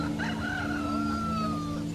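A fighting rooster crows once, a single loud, close cock-a-doodle-doo held for about two seconds over faint farmyard background.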